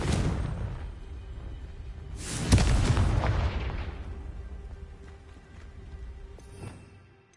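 A Confringo blasting spell in Hogwarts Legacy goes off as one loud explosive boom with a rumbling decay, followed by fainter magical crackles and a smaller burst near the end.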